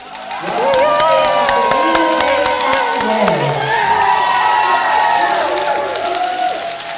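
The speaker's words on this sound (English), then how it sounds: "Clap it up." A crowd cheers and applauds loudly, with whoops and high shouted voices riding over continuous clapping. The noise holds strong and near for the whole stretch, with excited voices sliding up and down throughout.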